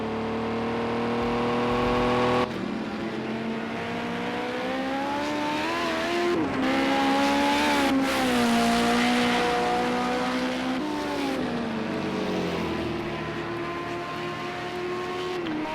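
Group 5 race cars lapping Willow Springs in the racing game Project Cars 2, a loud near engine howl rising and falling through several gear changes and throttle lifts, with a tire squeal as grip runs short.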